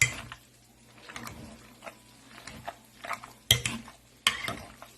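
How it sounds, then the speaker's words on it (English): Food gets mashed and stirred with heavy whipping cream in a pan, soft squishing strokes and scrapes with a few sharper clanks near the end, close and intermittent over a low steady hum. "Gonna go ahead and mash that up and mix it around."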